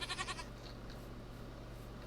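A goat in Minecraft gives a short bleat at the start, then faint game ambience continues alone.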